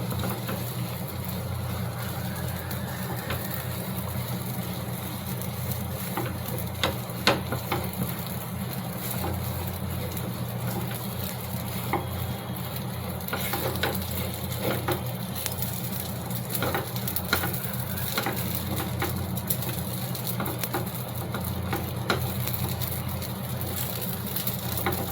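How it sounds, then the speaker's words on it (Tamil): Semolina (rava) is stirred in a pan for a sweet, making a soft, continuous scraping and gentle sizzle with scattered light clicks, steady and close throughout, with no talking. "எந்த அளவுக்கு முடியுமோ அந்த அளவுக்கு ரவையை நல்லா சாஃப்டாக கிளறி எடுத்துக்கலாம்."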